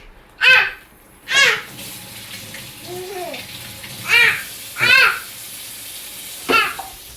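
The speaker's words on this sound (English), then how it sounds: "I'm just gonna rinse my hands off, get them a wash" Water from a kitchen tap splashes in short bursts as hands are rinsed, five quick separate gushes spaced a second or two apart, close by with a quiet room between them.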